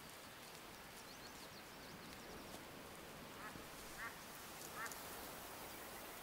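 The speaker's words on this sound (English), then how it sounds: "A wild duck." A wild duck in the hunting game Way of the Hunter gives several short, faint quacks, distant and low against a steady hiss that sounds like rain.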